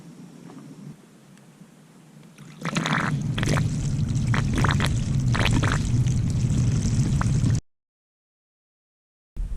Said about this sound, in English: We're gonna get the hose out, hope this thing holds water, and try to fill it up.